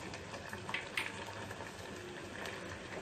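Foxtail millet kheer with melted jaggery simmering in a pan, giving soft, faint bubbling and popping, with a couple of slightly sharper blips and a low steady background.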